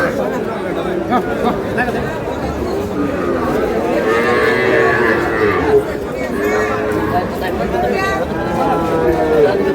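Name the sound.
bull calves at a cattle market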